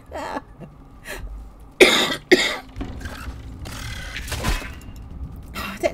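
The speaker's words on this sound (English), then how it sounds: "I needed to cough" Several sharp, close coughs and throat clearings burst out in quick succession, loud and harsh, with a brief speaking voice between them.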